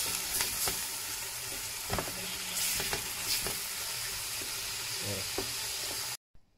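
Wine hisses and sizzles steadily in a hot pan while deglazing for pot-au-feu, with a few clinks and scrapes over the bubbling before it cuts off abruptly near the end.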